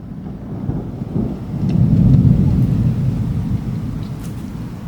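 A violent thunderstorm approaching in Bordeaux, a long deep rumble of thunder swelling and fading over several seconds with rain hiss beneath, no talk.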